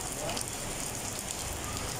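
Heavy rain pouring down steadily, a dense hissing wash of drops striking surfaces at constant loudness with no pauses.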